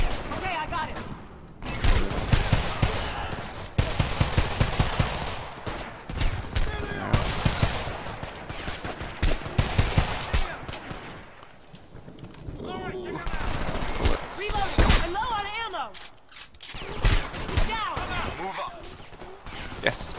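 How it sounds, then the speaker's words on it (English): Sustained automatic gunfire in the video game Homefront, bursts of rapid shots rattling almost continuously with brief lulls, while a player talks over the shooting. "Who is shooting at me?"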